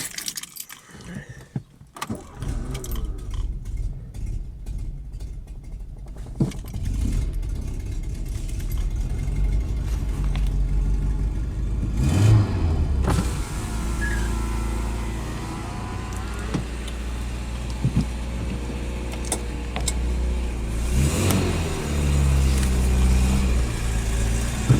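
A 1986 Peugeot 305 GTX engine idles and revs nearby, rumbling steadily with some rattling and jangling clatter early on, the motor running throughout as it drives around a yard.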